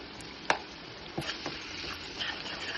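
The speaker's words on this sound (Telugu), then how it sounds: "ఇది కొంచెం ఫ్రై అవ్వాలండి" Onion paste with turmeric and ginger-garlic paste fries in a pan, giving a low steady sizzle with a few soft stirring taps and scrapes, close and fairly quiet.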